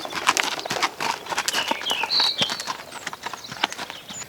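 Several horses walk past on Dartmoor moorland, their hooves clip-clopping in an irregular rhythm close by, with birds chirping faintly in the background.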